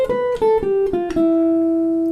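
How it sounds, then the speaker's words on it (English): A jazz ii-V-I lick on guitar: a short run of clear, sustained single notes stepping downward, each picked note ringing out, ending on a long held tone, played alone. "the first 2-5-1 lick that I'm going to show you sounds like this"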